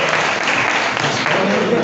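A church conference crowd applauds with dense, steady clapping that fills the whole moment, loud and close with no break.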